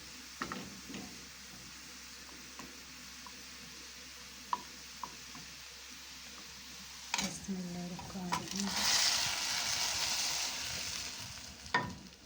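Onions fry in hot oil for a lentil soup, a soft sizzle that swells in the latter half, with scattered clinks of a spoon and pot from stirring nearby.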